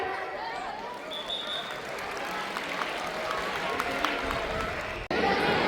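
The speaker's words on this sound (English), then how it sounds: "Students, please clap for them." Steady applause from a crowd of students at a school Children's Day celebration fills the room, with scattered voices and cheers mixed in, continuing until it cuts off abruptly near the end.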